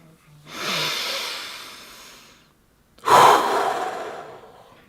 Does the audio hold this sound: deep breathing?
yes